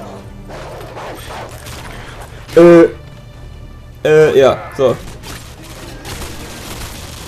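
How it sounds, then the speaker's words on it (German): Gunfire in the Call of Duty Modern Warfare 2 video game, a few short bursts of loud shots separated by pauses, while a player talks in German over the game audio. "Von wo kommen die Schüsse?"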